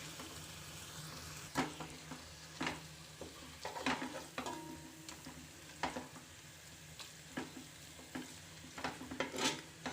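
Skinless chicken coated in masala is stirred in a pan: a quiet, steady sizzle under repeated scraping and clacking stirs at irregular intervals, close by and without any talking.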